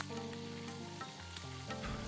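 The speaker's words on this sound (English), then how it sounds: "It does not take very long to fry at all, but I did put them through a double fry" Oysters coated in sweet potato starch batter deep-fry in hot oil in a carbon steel wok, a dense steady sizzle with crackling bursts, close and fairly quiet.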